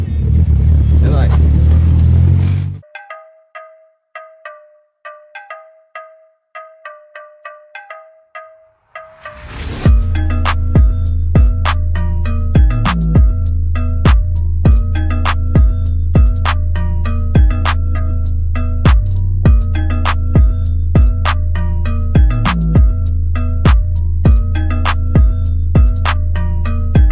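A 1986 Volkswagen Parati, registered as a 1.6 Plus and fitted with a fuel-injected 2.0 engine, runs close by with a steady idle hum and regular ticking. It starts after a loud burst and a stretch of quiet chirps.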